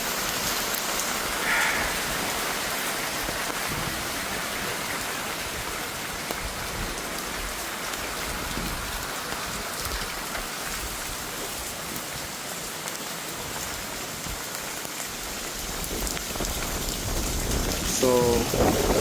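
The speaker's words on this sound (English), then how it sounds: "On a day like this, rains are okay." Rain from Hurricane Melissa pours down steadily for the whole stretch, a continuous, close hiss of drops on surfaces with no break in intensity.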